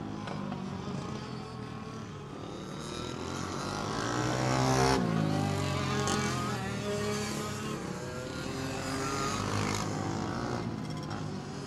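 Racing karts roar around an oval track in an open main event, with buzzing engines that swell as a pack passes nearby at mid-clip and then settle into a steady distant drone.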